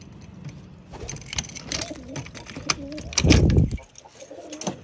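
Pigeons coo in a home loft in the garden, several rolling calls close by, broken by a loud burst of rustling or flapping near the end.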